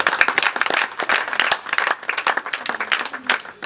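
A church congregation applauding, dense continuous clapping with uneven bursts throughout, fairly close and lively.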